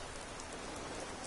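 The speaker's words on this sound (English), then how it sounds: "Oh, it's raining." Steady rain hisses evenly in the video game Skyrim, a dense, unbroken wash of patter with no voices, filling the short moment alone.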